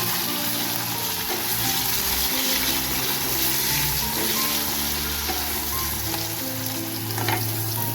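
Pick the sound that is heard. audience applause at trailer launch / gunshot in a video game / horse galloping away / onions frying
onions frying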